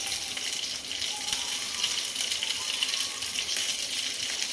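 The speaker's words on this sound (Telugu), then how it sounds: "ఇలా వాటర్ మరుగుతున్నప్పుడు" Water boiling in a pot for chicken mandi gives off a steady, hissing, bubbling rush, close and continuous throughout.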